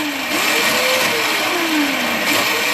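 A Toro CCR 3650 R-Tek single-stage snow blower, its auger teeth worn off, runs loud and steady up close, the engine droning with a wavering whine as the rotor spins and the machine creeps forward.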